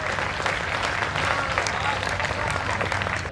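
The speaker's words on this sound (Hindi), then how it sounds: "तालियां तो कमजोर ही है आप लोगों की।" Dense, steady applause from an audience at a Hindi poetry recital about Jain faith and Sammed Shikhar fills the whole stretch, close and continuous with no voice on top.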